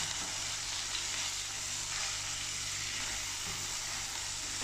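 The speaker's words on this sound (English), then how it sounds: "let's head back to our onion and green pepper. So let's give it a stir." Onion and green pepper frying in a pan give a steady, dense sizzle that holds evenly throughout with little change, any stirring blended into the continuous crackle.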